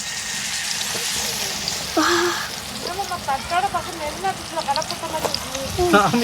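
A pair of seela (barracuda) fish fry in oil with a continuous bubbling hiss, nearby voices talking over the sizzle throughout.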